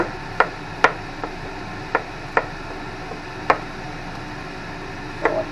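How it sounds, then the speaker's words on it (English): Knife chopping garlic cloves finely on a cutting board for Caesar salad dressing, a handful of sharp, separate taps spaced irregularly against a quiet background, with no talking. "need about 3-4 cloves of garlic. Chopped up real fine"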